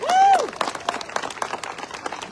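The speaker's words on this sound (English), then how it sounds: "We got a round of applause for that" A crowd applauds at a charity walk, a short burst of scattered clapping, moderately close, with a brief voice-like tone at the very start.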